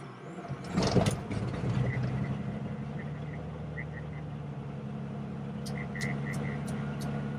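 A light aircraft piston engine cranks with a short burst, then catches and settles into a steady low idle rumble inside the cockpit, with faint beeps later.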